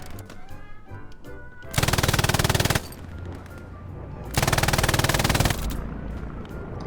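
Loud bursts of automatic gunfire in the WWII shooter Hell Let Loose, two long sustained volleys separated by quieter stretches of scattered shots and battlefield noise.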